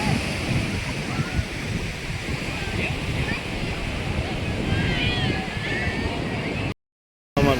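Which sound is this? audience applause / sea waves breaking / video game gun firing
sea waves breaking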